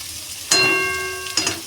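Meat fries in refined white oil: a sudden sizzling burst with a faint ringing tone that slowly fades, followed by a second, shorter hiss moments later.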